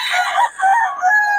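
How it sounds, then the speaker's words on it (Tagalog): A rooster crows loudly and close, one drawn-out call broken into a few rising and falling segments. "Solid yung mga manok ni Boss Tony"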